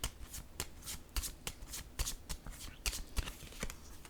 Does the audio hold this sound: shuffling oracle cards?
yes